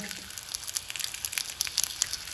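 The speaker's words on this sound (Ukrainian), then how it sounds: "На розігріту сковородочку я кладу булочки." Burger bun tops toast in a heated frying pan, a soft, crackling sizzle with scattered small pops, close and fairly quiet, without talking.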